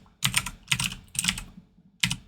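Someone types a part name on a computer keyboard in four short clustered bursts of crisp key clicks, heard close and clear with no voices.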